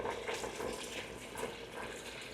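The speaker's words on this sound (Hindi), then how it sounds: "पानी कम है, इसमें और गर्म पानी डालना पड़ेगा।" Hot water pours steadily into a pot of boiling lasagna sheets on a home stove, a continuous close splashing gush running the whole time with no talk.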